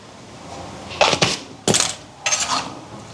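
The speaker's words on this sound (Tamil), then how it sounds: "இப்போ வெண்டிக்காயை கலந்து விடுவோம் ஆக போட்டு கிளறாமல் மெதுவாக இப்படியே கலந்து விடுவோம்" Okra being gently stirred in a cooking pot at an almsgiving meal, giving three separate bursts of metal scraping and clinking against the pot, spaced about half a second apart, close and moderately loud with no talk.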